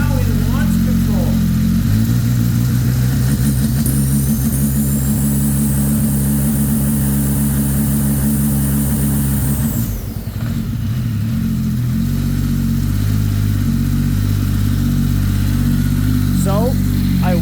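Ski-Doo 1200 XR snowmobile engine idling and revving in launch control with the brake held, a loud continuous roar with a rising whine, a brief dip around the middle, then settling back to a steady drone.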